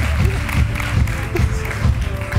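A Turkish television studio audience claps in a steady, dense patter of many hands, close and fairly loud, with murmured voices mixed underneath.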